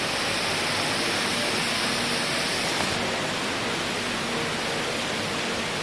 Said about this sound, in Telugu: చైనీస్ షిప్ సముద్రంలో ఉన్నట్టుగా కనపడడానికి ఫౌంటైన్ కూడా అరేంజ్ చేసినారు.